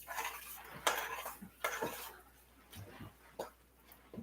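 Washed quinoa goes into a cooking pot, giving soft clinks and scrapes of utensils and cookware in bursts, with faint voice murmurs nearby.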